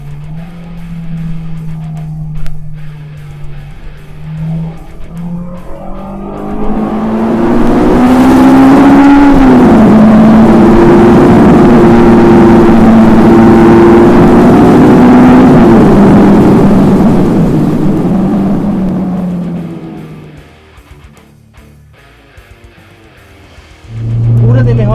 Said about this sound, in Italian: ci si trova in una galleria e si dà una bella accelerata